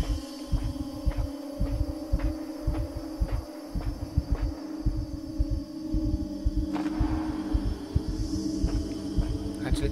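Heartbeat in the video game Inside, a steady, low, throbbing pulse repeating under a constant hum, with occasional faint clicks on top.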